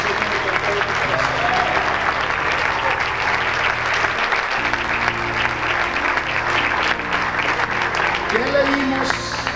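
A church congregation breaks into loud, sustained applause, dense rapid clapping from many hands that fills the room without pause, with voices faintly mixed in beneath it.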